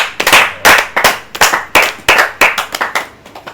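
A crowd at a Christian worship broadcast claps for Jesus in a loud, regular rhythm, about a dozen sharp, close hand-clap bursts in quick succession that fade slightly toward the end.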